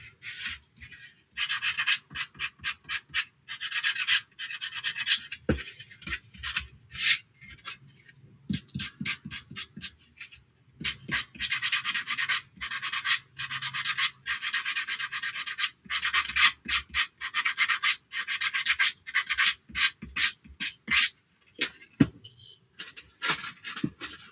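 An altered chocolate box is sanded by hand with quick back-and-forth rasping strokes, close and dry, coming in short bursts separated by brief pauses.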